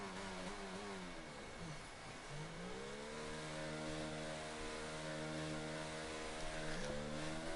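A race car engine in a racing sim holds steady, then drops and climbs again in pitch as the car slows and enters the pits, a clear mid-level drone with no talk.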